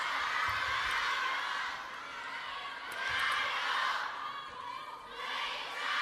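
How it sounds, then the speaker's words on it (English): Crowd noise at a women's singles table tennis semifinal, Sun Yingsha versus Chen Xingtong at WTT China Smash 2025, a broad murmuring groan from spectators that swells and fades twice across the stretch. "Audible groan in the crowd."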